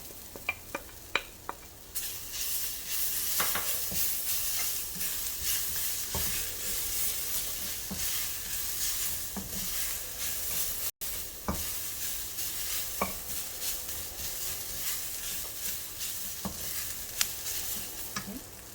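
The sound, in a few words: stir-frying moringa leaves with coconut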